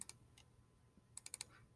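Keys on a graphing calculator are pressed in quick, light taps, a couple of isolated clicks followed by a brisk cluster of four, close and quiet with no talking.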